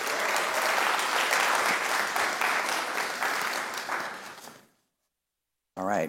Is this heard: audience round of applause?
yes